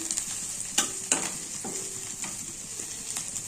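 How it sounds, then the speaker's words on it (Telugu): Mustard seeds, cumin, onion, curry leaves and dried red chillies sizzle and crackle in hot oil, a bright steady hiss broken by a few sharp pops and utensil taps near the pan. "స్టవ్ పైన ప్యాన్ పెట్టుకొని ఇలా తాలింపు వేసుకోవాలి."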